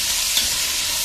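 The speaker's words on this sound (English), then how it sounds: "Step is sauteing the vegetables" Vegetables, onions among them, sauté for jambalaya in a pan with a loud, dense sizzle that runs steadily through a brief moment and is heard up close.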